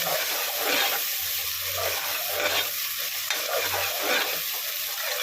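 Tomatoes frying in a pan for chicken biryani give a constant loud sizzle, with close, rhythmic stirring scrapes coming back every second or so.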